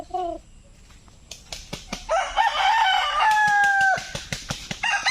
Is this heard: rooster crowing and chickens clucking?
yes